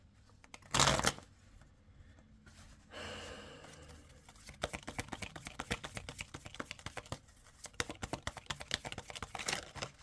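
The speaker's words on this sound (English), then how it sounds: "Interesting that I'm shuffling like this again." Tarot cards being shuffled by hand in a quiet room, with a sharp riffle early on, then a long stretch of rapid, soft, close flicking and tapping of the deck.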